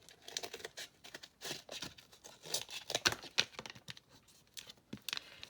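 Scissors cutting a straight line through paper while making a craft from a Little Golden Book, a run of close, crisp snips and crinkly paper rustles with no talk.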